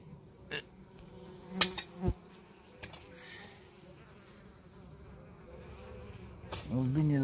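Bees swarm around a dish of plum jam, their steady buzzing droning close by with occasional louder passes near the microphone and a few clicks and knocks, growing louder toward the end.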